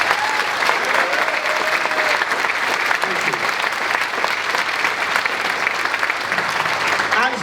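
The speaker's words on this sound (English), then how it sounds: "Give them a round of applause." Sustained audience applause fills a theatre during a Broadway revue at The Customs House, dense and steady throughout with some cheering and faint voices mixed into the crowd noise.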